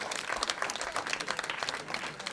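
Concert audience applauding, a brief burst of dense hand clapping, moderately quiet and somewhat distant, with no talk over it.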